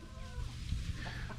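Farm chickens cluck and squawk nearby as they run toward a person they expect to feed, in a lively, overlapping burst of calls with a low background rumble.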